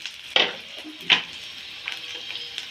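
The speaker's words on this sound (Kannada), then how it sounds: "ಈಗ ಈರುಳ್ಳಿಯನ್ನು ಹಾಕೊಳ್ಳೋಣ ಫ್ರೆಂಡ್ಸ್ ಈರುಳ್ಳಿನೂ ಚೆನ್ನಾಗಿ" Onions hit a hot pan with a couple of sharp hissing bursts, then settle into a soft, faint sizzle while being stirred, with light utensil scrapes and no voice.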